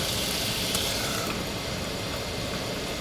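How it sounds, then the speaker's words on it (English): Ventilation fan in a van tiny home running steadily with a broad, even whoosh, continuous and moderately close, with no voices over it. "I'm going to turn my fan on right now"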